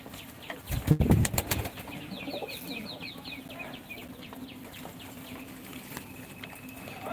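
A burst of pigeon wing flaps close by as the birds come to feed from a hand, followed by a run of quick bird chirps and soft rustling in a quiet outdoor space.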